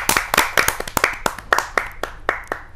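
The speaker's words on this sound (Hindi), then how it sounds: "आइए जोरदार तालियों से स्वागत करते हैं" A small audience at a Hindi kavi sammelan applauds to welcome a woman poet from Meerut, a run of close, uneven handclaps with no voices.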